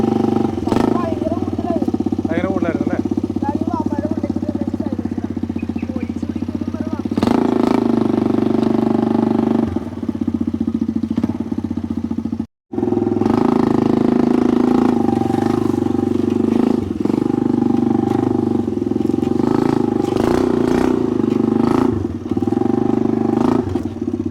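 A homemade motorcycle's engine runs close and loud, idling with a clattery mid-pitched rumble and a few throttle blips, with a brief cutout midway and people talking over it.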